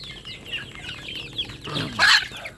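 Several gamefowl chickens clucking and chattering nearby on a farm, with a louder squawk near the end.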